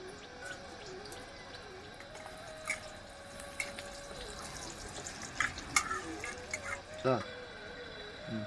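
Bay leaves sizzle in hot oil as the tempering for a Bengali chicken kosha curry, a soft, continuous crackle with small pops and spatters heard under someone speaking.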